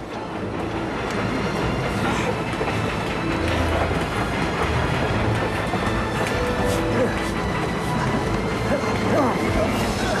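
A moving train, a continuous dense rumble with faint rhythmic clatter of wheels on track, loud and steady throughout with no pauses.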